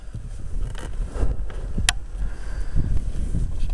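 A 2002 Dodge 24-valve Cummins HO diesel engine idles with a steady, close, low rumble throughout, with no voices and some wind-like noise over the microphone.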